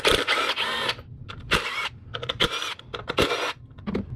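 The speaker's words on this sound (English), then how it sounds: "And then I'll take off these 10mm bolts." Ratcheting and wrench clicks from removing 10mm bolts on the valve cover of a 2002-2006 MINI Cooper S R53 engine, heard up close as a run of sharp, uneven metallic clicks and scrapes with no talk.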